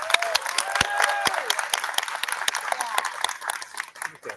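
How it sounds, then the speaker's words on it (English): Audience applauding honor society members at a National Junior Honor Society induction ceremony, a crowd of sharp claps fading gradually, with a voice speaking over the start. "please join me once again in applauding all of our National Junior Honor Society members"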